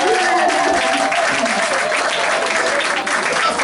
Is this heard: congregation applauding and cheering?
yes